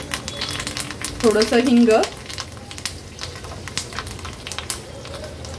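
Mustard seeds, cumin and curry leaves sizzle and crackle in hot oil for a tempering, a steady close frying hiss with scattered pops, while someone briefly speaks over it.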